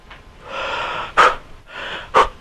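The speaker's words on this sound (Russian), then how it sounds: "Вот я дышу. Спокойно выдохнул." A person demonstrates breathing up close, with two slow audible breath cycles, each a soft drawn-out airflow ending in a sharper, louder exhale puff.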